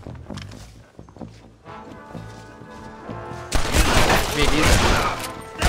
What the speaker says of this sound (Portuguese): Uma sarapada de tiro aqui agora de novo desse maluco